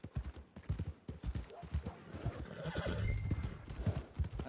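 Horse hooves clip-clop in a steady rhythm with loud neighs and whinnies in the Red Dead Redemption 2 video game, near and clear, with a faint voice briefly underneath.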